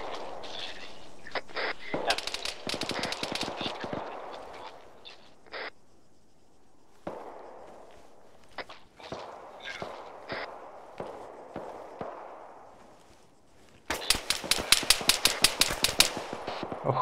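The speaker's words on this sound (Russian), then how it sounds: "О, хорошо, здесь стреляют." Rapid bursts of automatic gunfire in the military shooter ARMA 3, sharp cracks coming in clusters with quieter gaps between them, and a final loud sustained volley near the end, with a voice speaking at times in the background.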